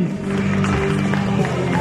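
A crowd at a fight event applauds the winner with steady, dense clapping and some cheering that fills the whole short moment, fairly loud and close.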